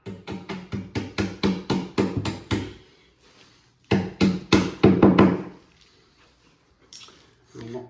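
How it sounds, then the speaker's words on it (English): A hammer drives Corfix wall plugs into drilled holes in a wall. Two bursts of close, evenly spaced knocks are separated by a short pause. "Knock them into your wall like that."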